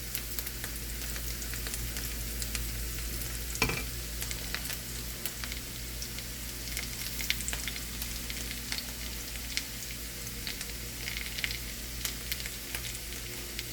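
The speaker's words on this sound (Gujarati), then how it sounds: "બ્રાઉન કલરનું થાય ત્યાં સુધી આપણે સાતરવાની છે ડુંગળીને." Onion sautéing in a pan until brown for an Indian apple curry: a steady close sizzle and crackle of frying, with a brief stir around the middle, no talking.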